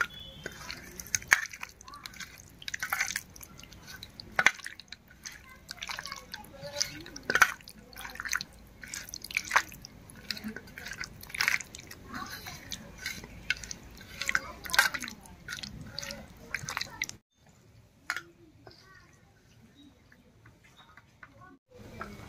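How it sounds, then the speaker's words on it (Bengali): Raw sing fish being mixed by hand with mustard oil, giving close wet squishing and dripping sounds in an irregular rhythm that stops near the end, leaving a quieter stretch. "এবারে ভালো করে মেখে নিচ্ছি।"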